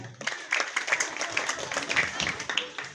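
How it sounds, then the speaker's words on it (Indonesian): Applause from an audience at a school gathering, steady broadband clapping of many hands that is moderately quiet and continuous, with a faint voice near the start. "Kita berikan tepuk tangan."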